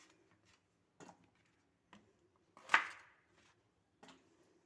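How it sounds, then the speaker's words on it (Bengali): A knife cutting peeled pointed gourds (potol) in half on a board, a few faint, spaced taps with one sharper, louder cut in the middle, in a quiet kitchen. "এবার পটলগুলো মাঝখান থেকে কেটে নেব।"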